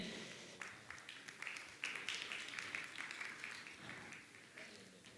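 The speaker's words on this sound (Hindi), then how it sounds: "जोरदार ताली बजाकर इनका सम्मान करें" An audience at a religious gathering in Gunayatan, Shikharji, Jharkhand claps to honour the Kala family. The applause is moderately distant, with scattered claps that swell into sustained clapping and then gradually fade.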